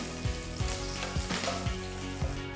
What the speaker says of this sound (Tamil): கடுகு பொரிய ஆரம்பித்ததும் 4 பச்சை மிளகாய் நீல வாக்கில் நறுக்கி போடுங்க.